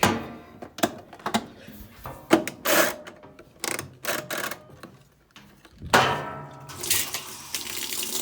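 Hot water rushes into a Whirlpool direct-drive top-load washer, model LSR8200EQ0, in uneven spurts and splashes that swell into a steady, loud, hissing flow near the end.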